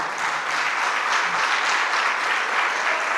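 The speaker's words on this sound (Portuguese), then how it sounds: "Pode aplaudir o Senhor." A church congregation breaks into sustained, dense applause that fills the room at steady loudness, with a few faint voices beneath the clapping.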